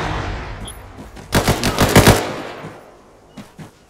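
Arma 3 gunfire: a fast automatic burst of about ten sharp cracks runs for close to a second, and a few fainter, scattered shots follow later, with no talk over them.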